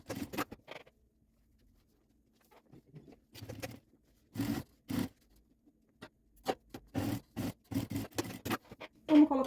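A zipper slider is fitted onto a zipper tape for a cosmetic bag, giving short close clicks and rasping scrapes in irregular bursts separated by near silence.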